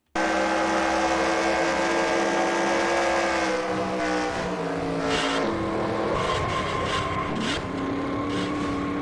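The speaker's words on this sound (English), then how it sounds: "the number 7 of Seabass, he's obviously racing the number 40 of Veteran Chaos for position here." Stock cars race at Kansas Speedway during a Pioneer 60 series event, the number 40 and number 7 cars among them; loud, continuous engine roar fills the track, with pitch shifts as cars close up, pass and accelerate.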